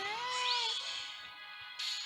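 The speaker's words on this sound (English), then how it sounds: "Whiniest cat on the planet!" A whiny cat lets out a loud, drawn-out meow up close, then a second brief cry at the end, with no talking over it.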